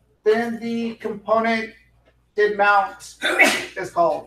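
A single sharp sneeze bursts out amid a man's lecture on React programming, standing out briefly against his steady talking before the speech carries on.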